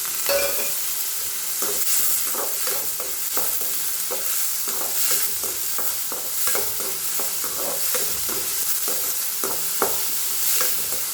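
Onion and green chilli sauté in oil in a pan with a dried red chilli, a steady close sizzle broken by frequent sharp scraping and tapping of the stirring spoon, no talk.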